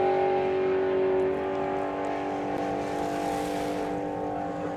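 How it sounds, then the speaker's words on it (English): A drag race car at the Doorslammers 2025 drag strip event gives a loud, steady engine roar with a strong droning tone that eases slightly as it carries on, heard alone without talk. "proper race car."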